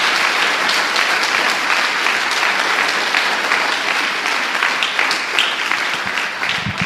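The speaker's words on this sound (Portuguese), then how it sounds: "uma salva de palmas ao Senhor" A church congregation claps steadily in a dense, even roar of applause that fills the whole stretch, close and loud, thinning slightly near the end.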